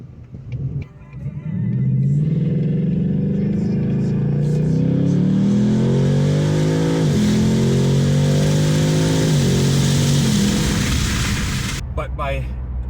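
A 2022 VW GLI with the 2.0-litre turbo engine and six-speed manual accelerates hard, its engine note climbing steadily through second and third gear with brief dips at each shift, loud and close throughout.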